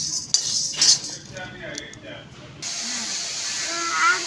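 Moong dal is dry-roasted in a pan until reddish for chakli bhajani. A metal spatula scrapes and clinks against the pan in uneven bursts over a soft hiss, with voices murmuring in the background.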